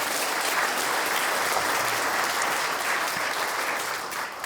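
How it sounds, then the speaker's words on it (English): A large audience applauding at a county State of the County address, a dense, even wash of clapping that holds loud and steady throughout. "So a big round of applause for them as well."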